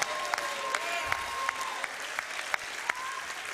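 A church congregation claps rhythmically with sharp, evenly spaced hand claps over a bed of applause and shouting, while a higher musical tone sounds in the background.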